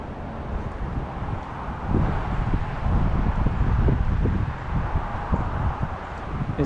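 Steady wind gusting past a roadside creek during tenkara fly fishing, a broad low rumble of buffeting against the microphone that swells from about two seconds on, with no voices.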